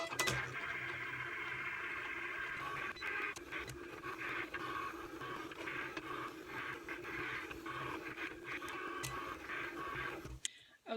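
A Cricut cutting machine cuts out a monogram design, a faint close mechanical whir with scratchy scraping moves and small clicks that ends in a sudden stop.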